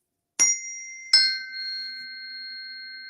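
Frequency tuning forks attuned to the solar plexus are struck twice in quick succession, each giving a sharp tap followed by a clear, steady high ring that lingers softly and evenly.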